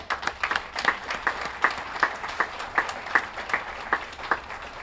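Scattered applause from a modest audience at a housing center opening in Nashville, with distinct individual claps in a fairly regular rhythm rather than a dense roar, heard nearby.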